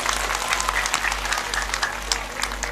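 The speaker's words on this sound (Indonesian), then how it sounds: "tepuk tangan kagem wong tangkis" An audience at a Javanese religious sermon applauds, a dense burst of many hands clapping, fairly loud and continuous, over a low steady hum from the sound system.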